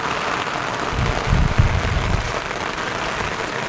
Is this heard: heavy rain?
yes